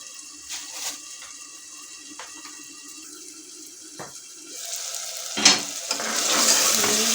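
Tomatoes cooking in a pan for a beef liver dish, a steady sizzle with stirring clatter that builds into a louder, bright frying hiss toward the end, no voices.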